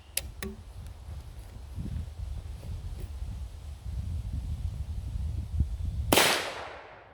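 A single loud gunshot from a 454 Casull handgun cracks out near the end, sharp and close, after a stretch of wind and low rumble outdoors.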